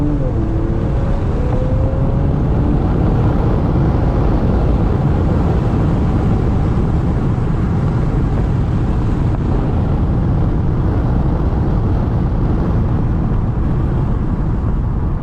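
Steady low engine and road rumble inside a moving Infiniti Q50 running 20 psi of boost, constant and unbroken, with no voices.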